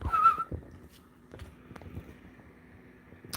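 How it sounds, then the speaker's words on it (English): A person whistles one short, clear note right at the start, then soft clatter and low rumbling noises take over for the rest of the moment. "You've got to whistle while you work."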